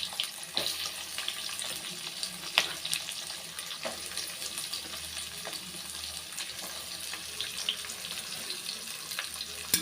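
Finely chopped onions fry with salt, a cardamom pod and spices in a pan, giving a soft, steady sizzle and hiss with occasional faint clicks and no talking.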